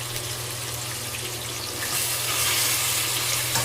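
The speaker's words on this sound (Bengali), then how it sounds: "এই যে দেখুন কড়াইয়ে তেল অনেকটাই রয়ে গেছে, এই তেলের মধ্যেই চিকেনটাকে আমি দিয়ে দিচ্ছি।" Chicken pieces dropped into plenty of hot oil in a kadai, a low steady bubbling sizzle over a hum that swells brighter and louder partway through, with no talk.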